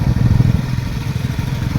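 Motorcycle riding through thick mist on the mountain road between Munnar and Marayoor, a close low rumbling engine with a pulsing, slightly uneven throb and no talk.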